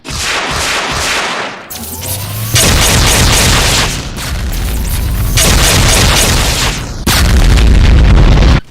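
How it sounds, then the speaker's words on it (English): A Revenant variant in a Doom mod fires a dual barrage of BFG 11K shots, producing loud, booming blasts in quick succession with roaring, explosive bursts that come in heavy waves, close and dominant with no voices. "A deadly attack is it can fire a dual barrage of BFG 11K shots."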